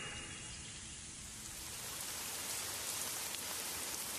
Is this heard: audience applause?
no